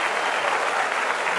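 A concert audience applauds a songwriter at an acoustic show, producing a dense, steady wash of clapping from many hands that carries evenly throughout with no break.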